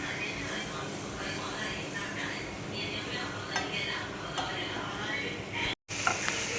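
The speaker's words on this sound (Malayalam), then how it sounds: "ഇതിലേക്ക് 1 മുറി നാളികേരം ചിരകിയത് നന്നായിട്ടൊന്ന് വരട്ടിയെടുക്കാം." Grated coconut being stirred into jaggery syrup in a pan for wheat ball snacks, with steady scraping and soft sizzling close by throughout, under a continuous background hiss and a brief cut near the end.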